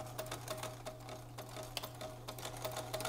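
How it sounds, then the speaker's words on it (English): A sewing machine backstitching a few times on a homemade respirator mask with a wire nose, a steady close mechanical whir with rapid needle ticks throughout, alone with no talk. "I'm gonna backstitch a couple times too because it'll help hold it in."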